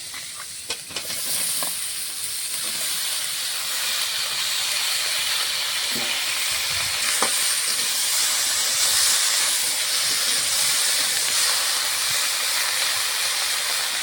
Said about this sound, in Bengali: সবজিটা এখন ভালো করে ভেজে নেবো